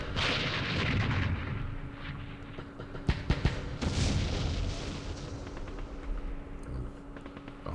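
Artillery fire booms in the Vietnam wargame Campaign Series Vietnam, Dien Bien Phu scenario, with a steady rumbling barrage and a cluster of sharp, loud blasts midway.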